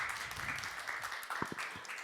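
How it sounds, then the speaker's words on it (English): Audience applause at a Ukrainian culture panel discussion welcoming the moderator, a faint, steady patter of clapping from a hall crowd lasting throughout. "Round of applause,"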